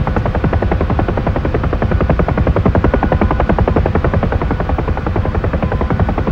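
A Huey helicopter in the DCS flight simulator gives a loud, steady rotor thump with continuous engine whine throughout, close and unbroken, with no voices.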